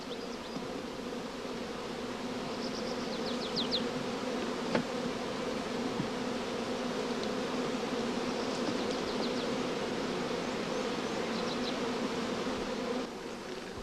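Honey bees swarming around an opened hive during a breeding inspection, a dense continuous buzzing drone, close and steady, with a few individual bees whining past near the microphone.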